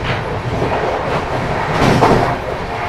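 A Telangana Express passenger train running on the tracks, heard from on board as a continuous loud rumble with clattering wheel noise and rattling carriage sounds.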